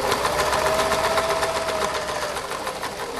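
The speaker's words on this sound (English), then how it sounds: "you're going to stitch back out towards the notch on the other side" A sewing machine stitches a seam on a dirndl skirt, running steadily with a fast, even mechanical whir and rapid needle ticking, close and fairly loud throughout, with no voices over it.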